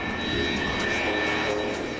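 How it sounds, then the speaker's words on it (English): A-10 Tankbuster jet aircraft taking off, a steady loud engine roar and whine with a high tonal hum that fills the whole clip. "Once it hits the speed it wants to fly, it just lifts up and away."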